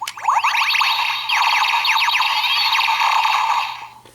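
Electronic toy sounds from a Power Rangers Dino Charge Deluxe Dino Saber with a Dino Charger inserted: rapid sweeping chirps and warbling synthetic tones, loud and continuous for about four seconds, no talking.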